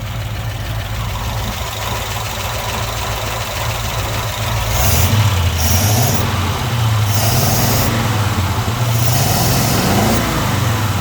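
A 1940 Ford pickup's Merc flathead V8 idling up close, a steady low rumble that swells as the throttle is blipped several times around the middle, rising and falling in revs, with no talking.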